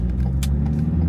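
A dump truck with a lifting bed drives through a roundabout, its steady engine rumble loud and close throughout with a brief higher whoosh midway.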